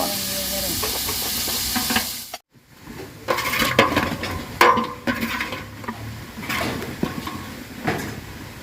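Tomatoes sautéing for chicken biryani in a Jaffna home kitchen, a steady loud hiss and sizzle from the pan with a brief drop near the middle and occasional clinks of stirring.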